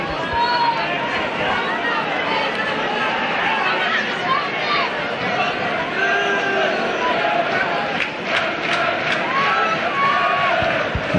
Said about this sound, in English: the Featherstone crowd now getting behind this Featherstone Rovers team for the first time tonight